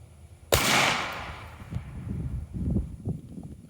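A single sharp pistol shot fired with a deliberately limp wrist at a shooting range, loud and close, its echo decaying over the following seconds with a few faint handling noises afterward.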